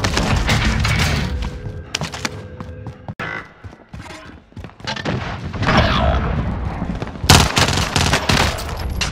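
Call of Duty Warzone battle with heavy gunfire, loud bursts of automatic weapons and explosive artillery-like blasts, intermittent and overlapping over about nine seconds, with brief lulls between intense volleys.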